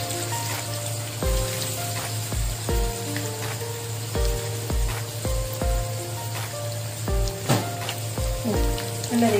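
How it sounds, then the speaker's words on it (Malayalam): Marinated fish shallow-frying in a pan for Kerala-style fish biryani, a loud close sizzle and crackle of oil spitting steadily, with repeated low thuds and faint clinks mixed in and no voices. "ഓരോന്നായിട്ടിട്ട് നല്ല രീതിയിൽ ഫ്രൈ ചെയ്തെടുക്കാം."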